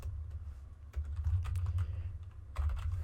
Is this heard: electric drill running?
no